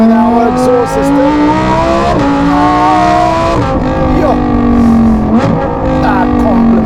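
A Lamborghini Huracan Tecnica with a 5.2-litre naturally aspirated V10 and a Novitec exhaust revs loudly and close, its pitch rising and falling through several sweeps while someone talks over it.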